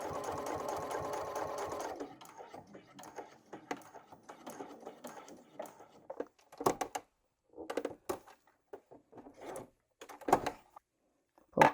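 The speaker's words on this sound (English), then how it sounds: "I'm going to sew along this side." A sewing machine stitches a fabric clutch bag with a card-slot panel, a close rapid whirring run at first, then short stop-start bursts of stitching with pauses and small handling clicks.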